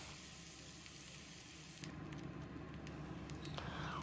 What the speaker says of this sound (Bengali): গরম হয়ে গেলে 1 চামচ পেঁয়াজ বাটা দিয়ে দেব, দিয়ে এটা লাল করে ভেজে নেব।